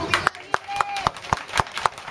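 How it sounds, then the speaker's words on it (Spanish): A crowd at a justice protest claps in a steady rhythm, about eight sharp beats in two seconds, close and fairly loud with voices mixed in. "El aplauso me va a interrumpir, me va a cortar la inspiración."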